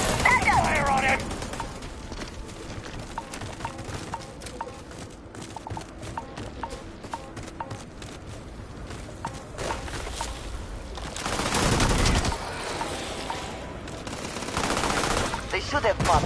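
Video-game gunfire crackles continuously through a busy battle, with rapid shots and clattering effects that swell louder toward the end. Speech is mixed in throughout.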